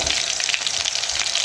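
Pounded ginger and garlic sizzle in a pot for an African traditional green maize and pigeon pea dish, a loud, dense, continuous hiss close by with no talk.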